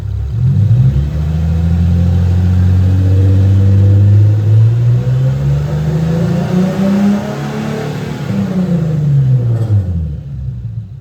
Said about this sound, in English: now we're gonna give it a little bit of gas, see how it changes